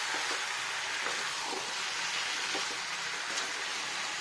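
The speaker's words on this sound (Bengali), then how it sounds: "আরেক পিস কষতে দিই, ভালো করে কষলে কি টেস্টিটা ভালো হয়। আরেকবার কষাই, উল্টো করি," A piece of food sautéing in a pan makes a soft, steady sizzle with faint scattered crackles and light stirring or turning sounds, quiet and continuous.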